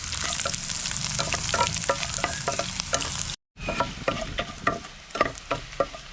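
A whole head of garlic cloves frying in oil for gooseberry pickle, a close crackling sizzle with regular stirring scrapes, a brief silent gap midway, then the frying resumes in uneven bursts, with no voices.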